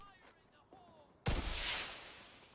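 Slingshot SMG firing in The Division 2, one sudden loud blast with a long roaring tail after a quieter stretch of faint game sounds and a rising tone.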